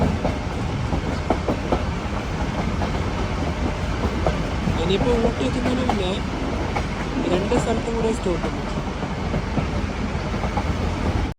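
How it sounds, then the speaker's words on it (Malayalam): A Nilgiri Mountain Railway train runs through pine trees on the way to Ooty, a steady rumble with rhythmic clickety-clack of wheels on rails, while someone talks over it. "പൈൻ മരങ്ങളുടെ ഇടയിലൂടെയാണ് ട്രെയിൻ കടന്നു പോകുന്നത്."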